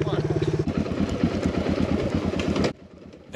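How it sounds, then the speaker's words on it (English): A Yamaha XT660 motorcycle is ridden on a Portugal tour, its single-cylinder engine thumping in a steady loud rhythm, then cutting abruptly to a quieter, more distant drone near the end. "while you are watching me riding Diogo's XT660"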